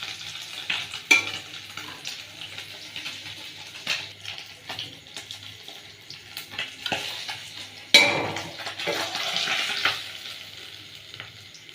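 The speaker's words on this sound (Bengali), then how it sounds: "দেখুন মাছগুলো উল্টে পাল্টে ভেজে নিয়েছি ভালো করে" Pieces of fish frying in hot oil and being turned in the pan, an uneven sizzle broken by scraping utensil clatters, with one louder burst of sizzling near the end and no speech.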